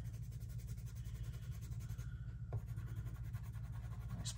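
A Prismacolor white colored pencil laying down a thick waxy layer on paper, a close, steady rhythmic scratching of back-and-forth strokes with a brief tap midway and no voices.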